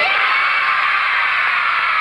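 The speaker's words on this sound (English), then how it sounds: "you need to clap for him really loud and go, yay!" A group of children cheers and yells "yay" loudly and continuously for a friend, a bright, sustained crowd of young voices close by with no pauses.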